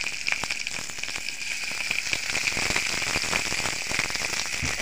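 Chicken shashlik kebab frying in oil over medium heat, a steady close crackling sizzle with dense popping spatter running throughout, no voices.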